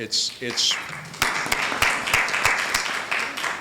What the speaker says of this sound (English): I also think that you all deserve a round of applause